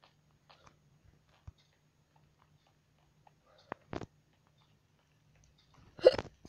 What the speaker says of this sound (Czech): To víte, škytavka.